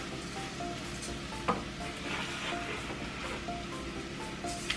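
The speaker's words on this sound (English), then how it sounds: "I'm just gonna toast this up a little bit" Two cups of dry jasmine rice toast in a hot pan with a soft, continuous sizzle and gentle stirring scrapes, plus a couple of faint utensil taps, steady and close.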